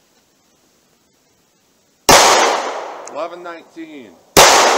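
A 9mm handgun firing Winchester service grade 115 grain warm ammunition: two sharp, loud shots after a silent start, the first followed by a ringing decay and a voice speaking briefly before the second.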